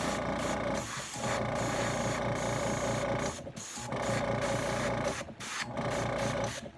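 An airbrush sprays paint in short trigger pulses, a steady hissing rush broken by brief gaps at irregular intervals, close and fairly loud.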